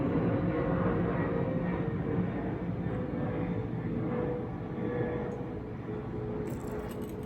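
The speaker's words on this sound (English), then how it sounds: "A lot of planes flying out to LaGuardia." A low, continuous jet rumble of an airplane flying out to LaGuardia passing overhead, steady and fairly distant, slowly fading toward the end.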